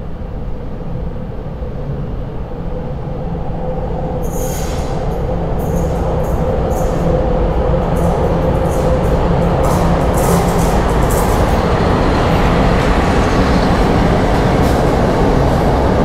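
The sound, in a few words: passenger train with locomotive on Polish railway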